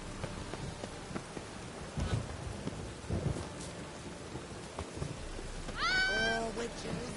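Steady rainfall with low thunder rumbles in The Witcher 3 video game, faint and continuous, with a brief high cry near the end.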